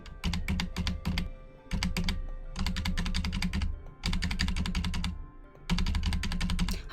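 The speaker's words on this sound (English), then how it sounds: "hope you don't mind the keyboard ASMR, because I'm just going to be doing that for a minute." Rapid bursts of typing on a computer keyboard, clicking keys in quick runs separated by short pauses, close and clear with no voices.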